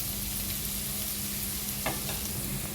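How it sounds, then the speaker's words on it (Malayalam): Chopped onion with salt and turmeric sautés in a hot pan for paneer biryani: a steady, close sizzle with a faint low hum underneath and one brief scrape of stirring near the end, no voices. "നമ്മൾ അരിഞ്ഞു വെച്ച സവാളയും ചേർത്ത് വഴറ്റിയെടുക്കാം"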